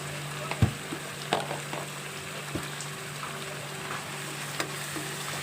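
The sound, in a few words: onion paste with salt and chili cooking in pan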